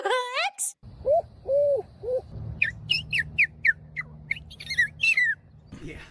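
A kid mimics bird calls with his mouth, producing a series of short whistled hoots followed by rapid, high chirping notes, close and clear, with some voices talking underneath.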